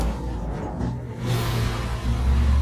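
A manual BMW car pulls away and accelerates, its engine note rising steadily over a low rumble, close and fairly loud with no voices.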